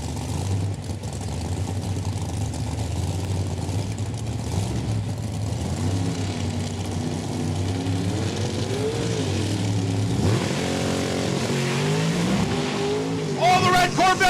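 Drag race cars roar down the strip at Saskatchewan International Raceway, a red Corvette among them, engines rising and falling in pitch, loud and continuous, with a commentator talking excitedly over the noise.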